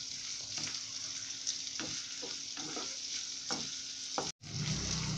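Tomatoes and onions sizzle and fry steadily in a pan for chutney, with a spoon stirring and scraping at intervals, close and continuous, with a brief break near the end.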